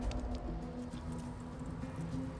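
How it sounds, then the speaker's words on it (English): Rain summoned by a spell in the video game Divinity: Original Sin 2 falls as a soft, faint, continuous pattering with light scattered drops throughout. "However, I can renew the effect by making it rain."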